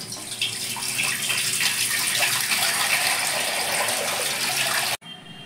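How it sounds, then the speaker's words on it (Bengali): Blanched peas drained out of cold water in a kitchen, a steady close pour and splash of water running off through a strainer for about five seconds, then stopping abruptly. "এবার আমি মটরশুঁটিগুলো ঠান্ডা জল থেকে ছেঁকে নিচ্ছি।"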